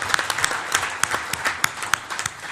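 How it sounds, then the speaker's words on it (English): An audience at a celebrity roast claps, the sparse, irregular hand claps sounding from a small crowd at moderate distance, individual sharp claps standing out over a few seconds. "How about a round of applause for them?"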